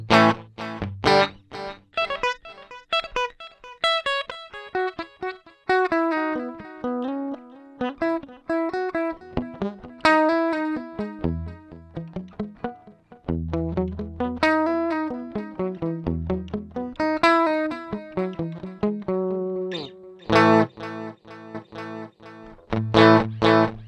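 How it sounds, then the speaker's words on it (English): Electric guitar played through a Yamaha GW10 multi-effects unit with its digital delay engaged and no reverb, picked notes and chords echoing in repeating trails, distorted tone at times, loud and close with no talking. "It's a digital delay and that is it."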